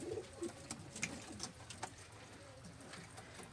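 Pearl-marked pigeon on a rooftop loft giving a few soft, low coos, faint against steady outdoor background noise with light distant sounds.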